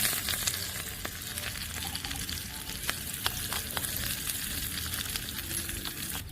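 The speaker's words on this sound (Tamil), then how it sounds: "இப்போ வெங்காயமும் புதினாவும் போட்டு வதக்கிக்கலாம்." Onion and mint sautéing in a pan for a crab gravy, a steady close sizzle with scattered spoon scrapes and clicks, no voices.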